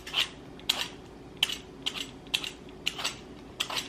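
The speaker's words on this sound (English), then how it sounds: "I'm gonna peel this pear." A pear being peeled, with several short scraping strokes at a steady, slightly uneven rhythm, close and fairly quiet over a low background hum.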